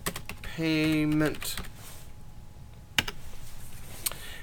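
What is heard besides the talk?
typing on a computer keyboard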